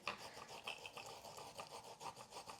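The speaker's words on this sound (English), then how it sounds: "you just rub the ginger on it, and it breaks up the little fibers inside" Fresh ginger rubbed back and forth across the sharp nubs of a ceramic grater, a soft, steady rasping scrape with short repeated strokes, close and quiet with no talking.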